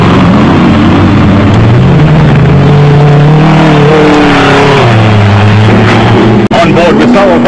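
Jeep engine roaring in an off-road race in South Africa's Sugarbelt, loud and close from on board, rising and falling through the revs, with voices talking over it.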